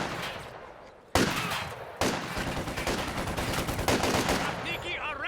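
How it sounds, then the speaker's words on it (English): Small arms fire from a Company of Heroes 2 battle crackles in dense overlapping bursts of gunshots, loud and continuous after a brief quieter start, with a short voice line near the end. "Taking small arms fire."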